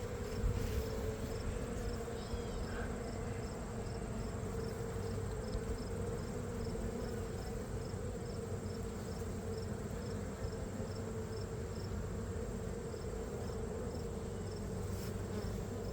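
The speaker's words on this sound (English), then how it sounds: "there's so many bees." A dense, continuous drone of many honeybees buzzing close by at an open hive, steady and full throughout with no voices.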